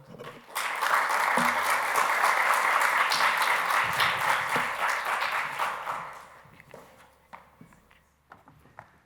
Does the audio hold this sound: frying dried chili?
no